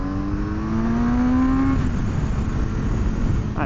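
A 2020 Kawasaki Z900RS motorcycle revs up on a dirt surface, its engine note climbing steadily in pitch for a couple of seconds before easing into a rougher, steady roar.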